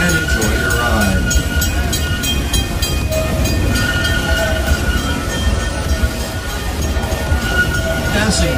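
An amusement park train ride at Six Flags Over Texas rolls along with a continuous rumble, rhythmic wheel clicks and some hissing, heard up close from on board.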